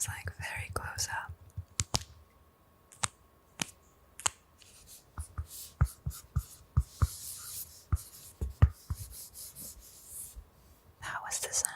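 A pen scratches out a signature on a vinyl record, recorded very close, with a series of crisp, uneven strokes and taps and faint whispering in the background.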